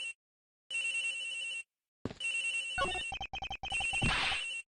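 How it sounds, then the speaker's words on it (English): A cell phone rings in the Ace Attorney Investigations video game. It sounds as repeated electronic ringtone bursts split by short silences, with quick tonal stutters near the end. "The ringing is coming from somewhere around here."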